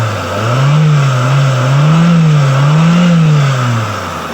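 A rebuilt 4G15 engine in a Mitsubishi Lancer runs steadily at close range after a full overhaul, its loud, even hum rising and falling gently in pitch as the revs waver, with no talk over it.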